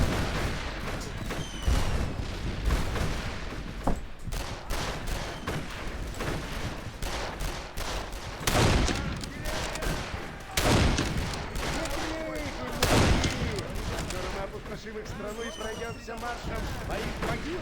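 Gunfire in the time-travel shooter game Darkest of Days: repeated scattered rifle shots and booming volleys through the stretch, loud and dense, with someone talking over the battle.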